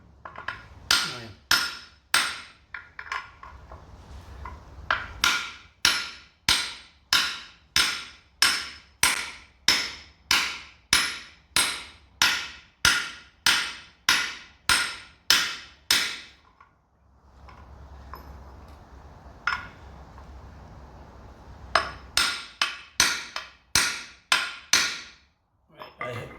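Hammer blows driving a bush into the rear torsion arm of a VW Passat B6, a long run of sharp, evenly spaced metallic strikes close by, pausing briefly then resuming in a quicker burst.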